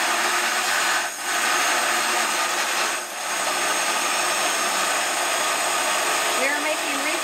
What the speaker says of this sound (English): we are going to basically blend it.